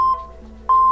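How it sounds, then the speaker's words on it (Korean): A Roland Aerophone GO AE-05 digital wind instrument gives short electronic beeps during a factory reset, two clear high-pitched tones separated by a brief gap, loud and alone. "여기까지 하면 이렇게 삐 소리가 짧게 여러 번 나는데요"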